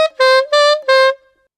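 Saxophone plays the closing phrase of a theme tune solo: three clear sustained notes, the last held and fading, close and bright with no accompaniment.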